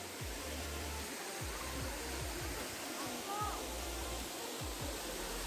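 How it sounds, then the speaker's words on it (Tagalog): Waterfall at Kitty Falls heard as a steady, broadband rushing wash of falling water throughout, with faint low thumps and some distant voices underneath. "Malapit na kami dito sa Kitty Falls."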